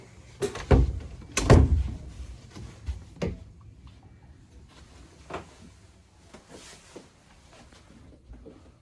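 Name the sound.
shower door opening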